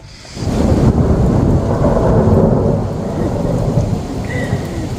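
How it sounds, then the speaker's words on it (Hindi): Thunder rumbles over heavy rain during a storm, a deep rolling boom swelling early and fading slowly beneath a continuous close hiss of rainfall on surfaces. "ऐसे ऐसे बादल गरज रहे ना भाई"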